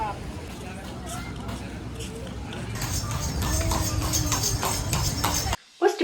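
Horse hooves clip-clop at a steady walking rhythm nearby on a car-free Gili island near Lombok, Indonesia, mixed with the murmur of voices and outdoor bustle, ending abruptly.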